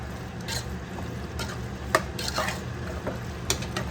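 A spoon stirs boti curry with chilli powder, turmeric and salt in a pot, giving scattered scraping and clinking strokes over a low background rumble and faint sizzle, close by with no talking.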